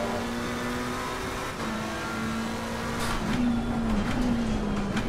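A race car in Assetto Corsa Competizione accelerates out of a corner, its engine note climbing through gears with brief dips at shifts, close and steady, without talk.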